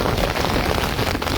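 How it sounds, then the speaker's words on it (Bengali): Heavy cyclone rain pours down on a coastal area of Bhola, Bangladesh, a dense, steady, close roar of drops drumming on surfaces with no break and no voices. "প্রচুর বৃষ্টি হচ্ছে এখানে,"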